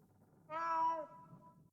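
A cat meows once, a clear, drawn-out cry rising and trailing off, heard in the 1979 film Alien against a quiet background.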